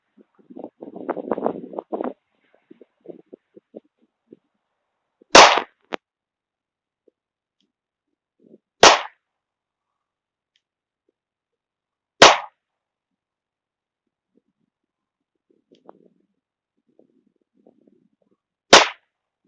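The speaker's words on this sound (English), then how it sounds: "And put 3 rounds at top left target just to see what it looks like" Four sharp, loud Glock 23 pistol shots fired at a target seven yards away, spaced a few seconds apart with quiet between them, using homemade hollowpoint rounds; a brief murmur of voices comes before the first shot.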